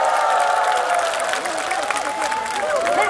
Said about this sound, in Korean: 뜨거운 박수와